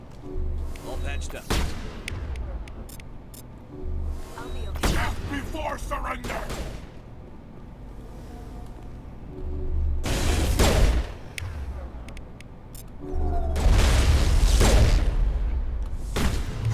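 Heavy turret gunfire and booming blasts in the video game Mass Effect, loud repeated bursts of shots and explosions over a rumbling score, with a voice talking between them.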